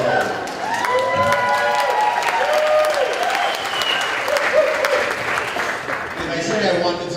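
Sustained audience applause at an evening reception of a vegan summit, steady and fairly loud across the hall, with raised voices and cheering mixed into the clapping throughout.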